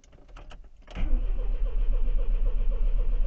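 A car engine is cranked on the starter motor alone after an oil change to bring up oil pressure. A few faint clicks come first, then a loud, steady, churning starter rumble runs close by to the end.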